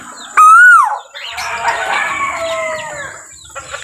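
A rooster crows loudly and close by in a backyard among kept birds, one long strained call followed by further overlapping crowing and clucking from other fowl.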